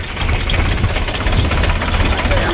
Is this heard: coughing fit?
no